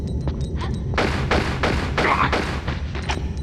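Gunfire in the Tomb Raider Chronicles video game: a rapid series of dull, booming shots, about eight heavy thuds in quick succession over a low rumbling game backdrop.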